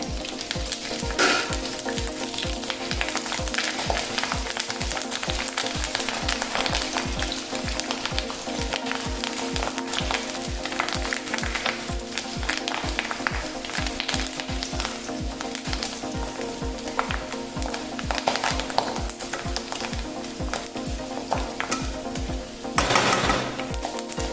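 Curry leaves fry loudly in hot oil for chicken pepper fry, a dense crackling sizzle with rapid popping that runs without a break, plus a brief louder burst near the end; no voices.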